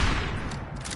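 Gunfire in the video game Fallout 4, a dense burst of loud shots packed tightly together, filling the whole brief moment with a rapid, rattling volley up close.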